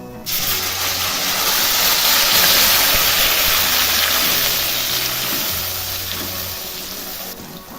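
Whole spices and cumin seeds dropped into hot oil for a paneer gravy, bursting into a loud, close, hissing sizzle that slowly settles over several seconds.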